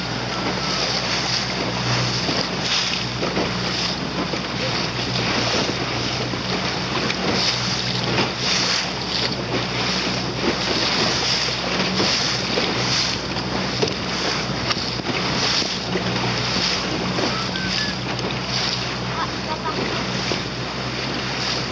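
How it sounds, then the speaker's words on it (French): A steady wash of wind and water with a low engine hum underneath, the drone of a large boat out on open water, continuous throughout. "Le gros bateau qui est rentré là-bas, il est trop bien."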